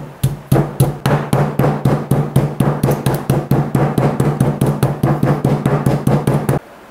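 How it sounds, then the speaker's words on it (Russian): A meat hammer pounds a chicken fillet covered with cling film, giving a fast, even series of around thirty loud, close thuds that then stop abruptly. "И с помощью молотка отбиваем мясо."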